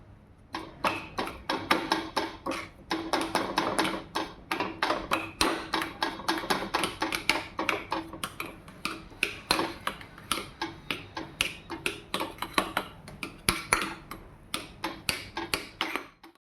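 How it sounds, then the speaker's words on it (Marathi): Mango coconut barfi mixture is patted flat in a tray with a ghee-greased leaf, giving steady, fairly quick soft taps and slaps that repeat close up for the whole stretch with no talking. "आता याच्या साहाय्याने आपण ही बर्फी थापून घेऊया"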